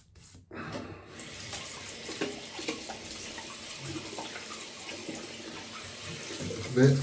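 Tap water running steadily into a sink as shaving water is prepared for a morning wet shave, a continuous splashing stream with a louder burst at the end.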